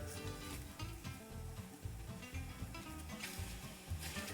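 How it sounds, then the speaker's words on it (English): Garlic and onions sizzle steadily in a pan during sautéing, a close, continuous crackle with faint stirring scrapes and no voices. "we're going to saute this off until the onions become translucent"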